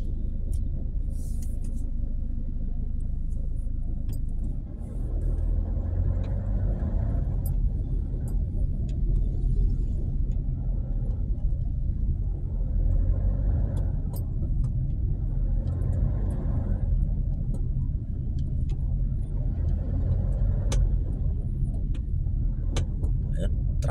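Road traffic rolls past near Guadalupe bridge, a continuous low rumble of cars and engines that swells and fades slightly throughout.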